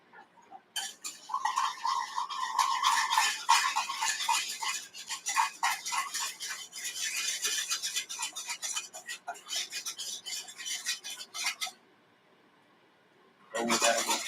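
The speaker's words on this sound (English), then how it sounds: "So let's go back to the whisk." A whisk clatters quickly around a bowl, beating lemon juice into batter for lemon waffles. The scraping and clinking strokes run for about eleven seconds, then pause and briefly resume, with some talk nearby.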